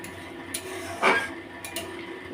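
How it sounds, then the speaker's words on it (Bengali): A utensil scrapes and clinks in a pan of fish curry as tomato is stirred in, a few short close metallic touches over faint background hum. "টমেটোটা একটু ঘেঁটে দিই"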